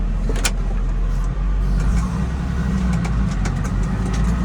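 A tractor engine drones loudly and steadily while pulling a Veles plough through a field, heard from close by in the cab, a dense low rumble with faint intermittent clanks and no speech.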